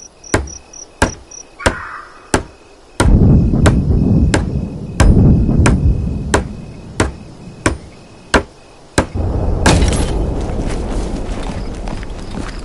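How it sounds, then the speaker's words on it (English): A hammer pounds rhythmically on a wooden barricade under construction in the Vietnam war video game Hell Let Loose Vietnam, sharp close knocks repeating about every half second over steady outdoor ambience. "Use the hammer in your loadout to finish constructing it."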